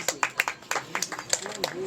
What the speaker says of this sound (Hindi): जोरदार तालियां हो जाए नैनिका जी के लिए।